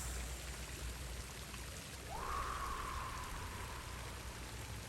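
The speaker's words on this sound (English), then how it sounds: "water winds its way through channels and gaps between rocks and murmurs in new voices" Water flowing over and between rocks, a steady close wash of broadband hiss and gurgle that runs without pause, with a short rising whistle-like tone partway through.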